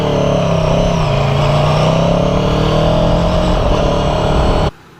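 A 2019 Aprilia Tuono 1100 Factory motorcycle engine revs loud and close, its pitch climbing and settling in a steady sustained roar before cutting off abruptly near the end.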